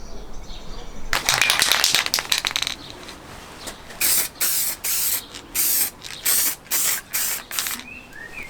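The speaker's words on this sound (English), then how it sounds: "Now I'm just going to stick a bit more epoxy primer on it." Epoxy primer sprayed from a can onto a repaired car fuel tank: a long continuous hiss, then a run of short, loud spray bursts in a steady on-off rhythm, close up with no talk.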